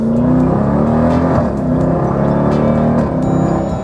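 A Dodge Durango SRT engine roars steadily as it accelerates hard in sport mode, loud and close, with a continuous revving drone, exhaust roar and shifts in pitch.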